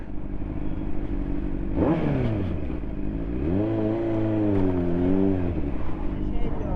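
A Honda CBR 600RR motorcycle fitted with a muffler rumbles steadily, with engine tones rising and falling through several revs, all beneath close talking.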